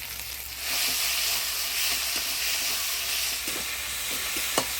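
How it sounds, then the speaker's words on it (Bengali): Ground spice paste of ginger, garlic, cumin, coriander, chilli and turmeric for a boal fish curry frying in a pan: a loud, steady hissing sizzle with a few faint scrapes of a spoon, close and without talk. "জল দিয়ে মশলাটা ভালো করে কষে নিব"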